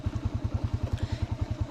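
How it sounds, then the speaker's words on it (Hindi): A motorcycle engine runs on a hill road close by, its low, rapid, evenly spaced thumping steady and loud throughout. "चलते हैं और चलेंगे बाइक से।"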